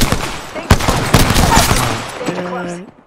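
Gunfire in the battle royale game Apex Legends: sharp broadband shots burst out in an irregular volley over the first two seconds, with game voice lines and a tonal cue overlapping the fading end.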